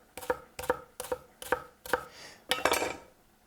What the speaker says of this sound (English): we're going to make slices down this way